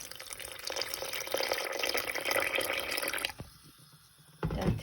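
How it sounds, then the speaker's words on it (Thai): Warm water poured into freshly pounded ingredients in a mortar for an Isan-style canned bamboo shoot curry, a steady close splashing stream that runs for about three seconds, then drops to quieter trickles and drips before a brief final splash. "แล้วก็ เทน้ำอุ่นลงไปนะคะ"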